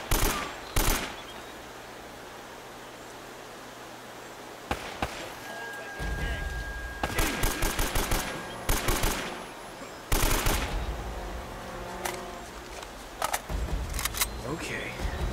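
Bursts of gunfire from a weapon in Uncharted: Drake's Fortune Remastered, loud sharp volleys and single shots recurring throughout amid other combat noise, with no speech over them.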